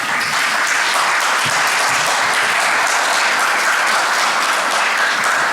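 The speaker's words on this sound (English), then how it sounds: "have a round of applause for each of you." An audience at the 2025 AIA awards ceremony applauds in a dense, steady wash of clapping that holds at full strength for the whole stretch.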